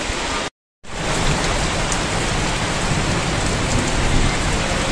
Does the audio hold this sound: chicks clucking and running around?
no